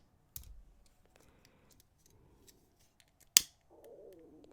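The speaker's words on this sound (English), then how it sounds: "snip that cord off." Scissors snip off a knotted beading cord in a single sharp, close cut, with a few faint handling rustles before and after.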